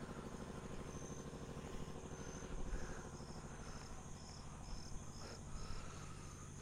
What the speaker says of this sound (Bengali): ঝিঝি পোকার ডাক অনবরত হয়ে চলেছে,